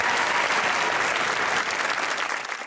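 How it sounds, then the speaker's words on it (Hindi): Loud, dense audience applause for a guest named Laiba on a studio chat show, sustained and close, then easing slightly toward the end. "लाइबा के लिए एक दफा तालियां यार।"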